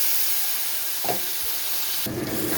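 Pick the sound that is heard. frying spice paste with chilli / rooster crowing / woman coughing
frying spice paste with chilli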